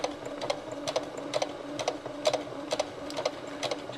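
A sewing machine stitching small stitches through fabric around the nose of a stuffed rocking horse, a quiet rapid mechanical whir broken into short repeated bursts.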